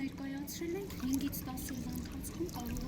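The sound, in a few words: leaking drinking water flowing away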